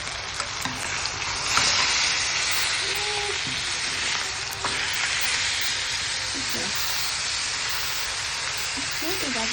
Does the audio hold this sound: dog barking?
no